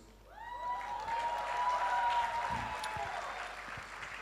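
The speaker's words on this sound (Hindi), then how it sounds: "तालियां बजाइए प्लीज़" Applause from an event audience rises and holds as a broad wash behind a sustained tonal hum, with a voice briefly audible over it partway through.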